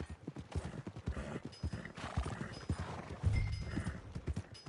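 Horse hooves clip-clop in a steady, close rhythm near a stable in a video game, with a brief whinny and a little background chatter mixed in.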